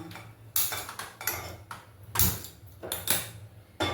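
A metal kadai is set down on a stove with several sharp clanks and knocks, close and fairly loud, spaced irregularly in a quiet kitchen.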